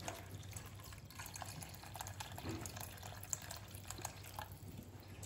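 Two glasses of water poured into a pot of vegetable barley soup during home cooking, a steady splashing, trickling flow running continuously with a faint low background hum and no talking.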